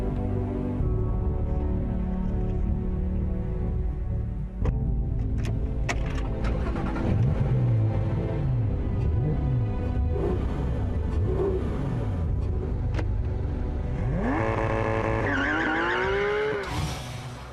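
A Porsche 911 GT3 of about 500 horsepower circles a racetrack, its engine loud and close throughout with rising and falling revs, gear changes, and a sharp high-pitched climb near the end.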